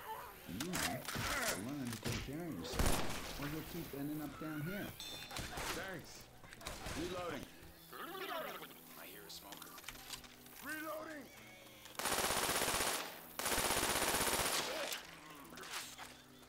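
Incendiary-round gunfire in Left 4 Dead 2, sharp bursts of rapid automatic shots in loud clusters mixed with thumps, keyboard clatter and talking voices over game sounds.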